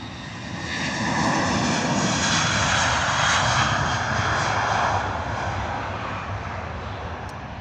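A British Airways Airbus A320 takes off for Rome, its engines swelling into a loud, sustained roar that peaks then gradually fades, heard without talk.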